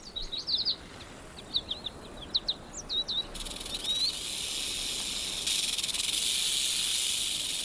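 Diamondback rattlesnake's rattle buzzing during a fight with a king snake, a steady dry hiss that sets in midway and grows louder, preceded by a stretch of bird chirps in the open desert background.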